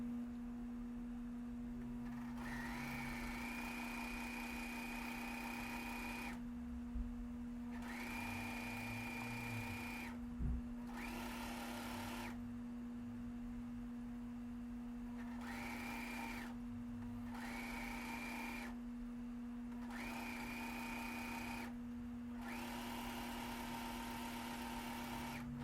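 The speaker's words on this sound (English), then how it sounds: "And then we're just going to overlock that seam all the way around." An overlocker sews around the seam of a jumpsuit in steady mechanical bursts of running, with short pauses between them over a constant electrical hum and a few soft handling knocks.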